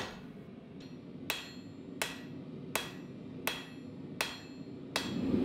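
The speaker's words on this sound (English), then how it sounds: "Here, to help speed up the drawing out of the tang, I was hammering on top of the horn." Six evenly spaced, ringing hammer blows strike steel on the round horn of an anvil while a Damascus katana tang is drawn out, heard close over a low background hum.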